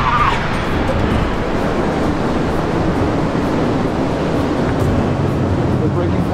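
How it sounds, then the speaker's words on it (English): Ocean waves break on a Sri Lankan shore in a steady, dense wash of surf that holds constant and loud throughout, with no clear pauses between breakers. "these waves. I will surf those waves."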